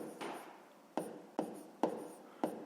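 A pen or chalk writes a fraction subtraction for a fifth-grade math exercise, a handful of sharp, close strokes and taps spaced about half a second apart, with brief scratchy drags between.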